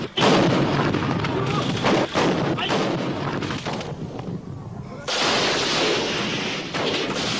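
Artillery gunfire in a military war setting, a dense barrage of loud booming blasts and crashes filling the whole stretch with only brief dips, no talk over it.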